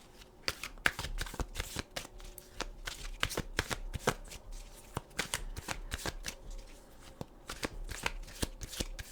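Tarot cards being shuffled by hand at close range: a steady run of crisp riffling snaps and soft slaps, repeated many times in quick irregular bursts, with no talking.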